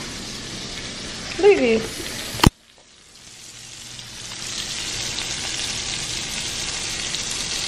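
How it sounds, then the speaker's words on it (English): A steak sizzles in a pan at home, a soft crackling hiss that builds steadily after a sharp clack. Someone talks briefly over the start. "My steak been cooking."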